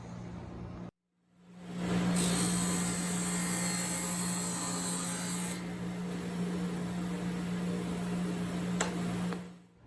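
A saw cuts a piece off a countertop in a workshop, spinning up with a steady motor hum and then a sustained grinding, rasping cut lasting several seconds before winding down.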